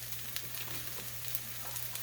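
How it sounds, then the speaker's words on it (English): Oil and cold precooked rice frying in a pan for fried rice, a soft, steady sizzle with faint crackles and a low hum underneath, quiet and close. "I'm going to add a little bit more oil to the pan, and then we're going to be adding our rice"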